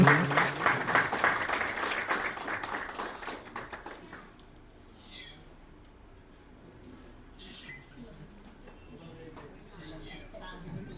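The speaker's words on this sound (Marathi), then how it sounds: "टाळ्या वाजवून सर्वांनी त्याचं अभिनंदन करूया." Audience at a school reunion gathering clapping in congratulation, a burst of many hands that is loud at first and then fades out after a few seconds, leaving a quiet room with faint scattered taps.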